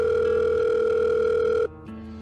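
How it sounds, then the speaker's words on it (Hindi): A telephone ringback tone heard while dialing a call, a steady continuous tone lasting about one and a half seconds before cutting off, followed by a fainter, lower tone, with no voices. "फोन लगाते हैं इसी को।"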